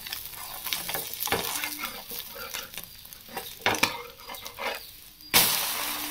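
An egg omelette frying in a little oil in a pan gives a soft sizzle broken by scraping and clinking as a utensil works it, ending with a sharper clatter.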